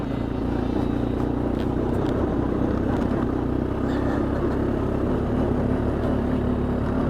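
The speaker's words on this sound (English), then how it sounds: "This engine sounds good too. No timing chain slap, no harsh noises or anything." A Honda Foreman 450ES ATV engine idles steadily nearby, a continuous low throbbing drone with a faint whine and no knocks or slaps.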